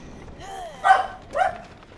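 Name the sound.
dogs barking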